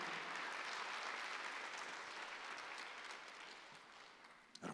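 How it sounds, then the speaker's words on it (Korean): A Korean church congregation claps together during a Sunday worship service, a steady, fairly faint wash of applause that fades gradually and stops after a few seconds. "박수 한번 해주세요."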